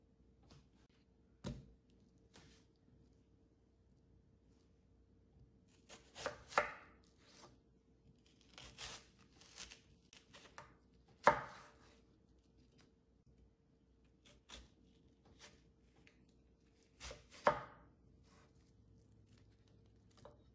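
A knife slices onions on a cutting board with sparse, close, quiet chops, irregular single cuts and a few quick clusters separated by pauses.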